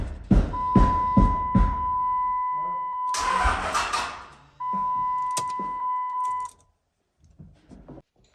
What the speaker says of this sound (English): We're just trying to crank it. It's not going to start.